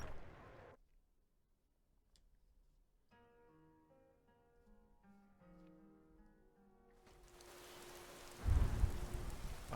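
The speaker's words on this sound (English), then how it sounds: "Oh man, it's still raining" Rain in the Skyrim video game begins after a quiet stretch and some soft musical tones, then swells into a broad, loud, steady outdoor downpour hiss with a heavy rumble near the end.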